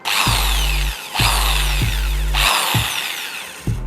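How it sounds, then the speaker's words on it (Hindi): A small electric drill fitted with a rotary tool bit runs in three loud bursts, each starting with a low motor whir and a high grinding whine, separated by brief pauses. "ये तो मेरे पास यही ड्रिल अभी पड़ी थी तो मैं इसके साथ आपको डिमॉन्स्ट्रेशन दे रहा हूँ"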